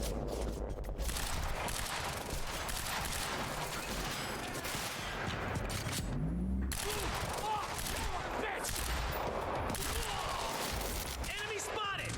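Dense continuous gunfire in the Quantum Break video game, steady and loud throughout, with shouted voices and game chatter over the shooting.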